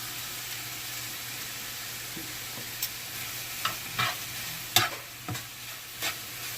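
Chicken pieces cooking in a dry pan without oil, with browning sauce added, give a soft steady sizzle with a few sharper crackles and scraping stirs, heard alone.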